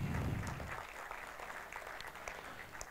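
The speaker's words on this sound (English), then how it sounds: "Big applause." Quiet applause from an audience at the Evolving Java tech conference event, a soft, fairly thin patter of clapping that tapers slightly after a rumbling start.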